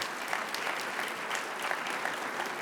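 An audience claps steadily at a regional planning conference in Central Ohio, a dense, even wash of applause from a room full of people, with no voices over it.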